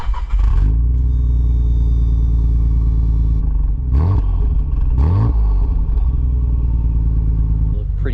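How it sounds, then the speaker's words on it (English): A stock Nissan GT-R's 2.6-litre RB26 twin-turbo engine idles with a steady low rumble close by, then gets a few short blips of the throttle that rise and settle back to idle. "show you guys what this RB26 sounds like"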